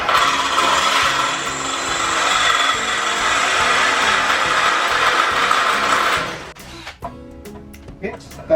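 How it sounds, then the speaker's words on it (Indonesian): A Mollar CDD585 12V cordless drill runs at speed setting 2 with a 4 mm bit, giving a steady, loud whirring grind for about six seconds before it stops. Scattered handling clicks follow. "di sini saya menggunakan mata bor 4 mili. Ini bawaannya ya. Kita coba aja sedikit ya. Saya menggunakan speed 2."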